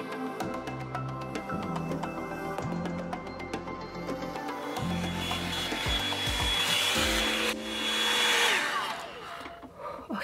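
A Revlon One-Step Volumizer oval-brush hair dryer runs steadily and loudly throughout, its whir shifting in pitch as the brush is worked through hair, with a brief rising surge near the end.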